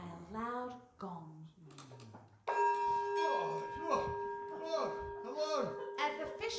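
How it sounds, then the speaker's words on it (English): A loud gong sound effect in a radio theatre play strikes partway through and rings on with a sustained, steady metallic hum while a narrator keeps speaking over it. "Her husband was awoken by a loud gong."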